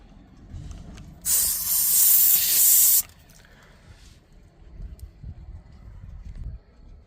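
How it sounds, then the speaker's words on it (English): Air hisses sharply from the valve of a spare donut tire during a pressure check, a loud close burst lasting under two seconds, then quiet handling noises follow. "Now find your air valve and check your pressure."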